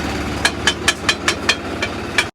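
A Ford 3630 Special Edition tractor engine runs with a steady low throb, punctuated by regular sharp knocking beats at about two per second, close and loud with no talk.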